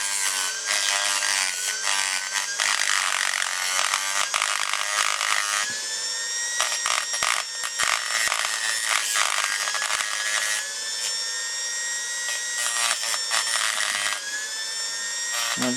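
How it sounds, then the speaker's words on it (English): A small Dremel rotary tool cuts through the axle of a 1:64 scale toy car wheel, a continuous high-pitched whining grind, close and loud, with a few sharp catches and shifts in pitch throughout. "I'll get my little Dremel going down here."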